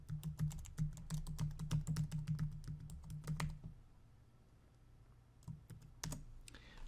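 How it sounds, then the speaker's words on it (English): A password is typed on a computer keyboard in a quick run of crisp key clicks. After a pause, a few scattered taps follow at close range. "So let's go ahead and type it in."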